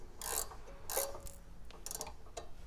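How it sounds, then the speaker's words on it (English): The drain plug on an Ariens snowblower gear case is screwed back in, giving faint, close ratcheting clicks and metallic scrapes in short irregular bursts. "So you could go ahead and reinstall your drain plug."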